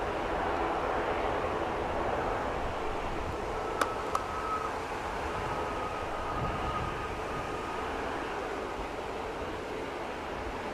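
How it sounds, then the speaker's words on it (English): An Aer Lingus propeller aircraft coming in to land at Manchester Airport makes a steady, distant droning rumble, with a couple of faint clicks and a thin tone briefly rising partway through. "Another prop on its way down in Aer Lingus colours as well."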